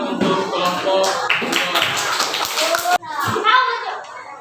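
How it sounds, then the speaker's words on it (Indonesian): Schoolchildren clapping for a group in a classroom, a burst of scattered hand claps mixed with children's chatter and an adult voice. "Silakan tepuk tangan untuk kelompok."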